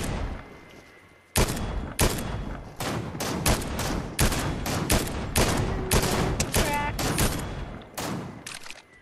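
Dense bursts of gunfire from the video game Fortnite, with repeated sharp shots and rapid volleys in a close, steady stream while players talk over it.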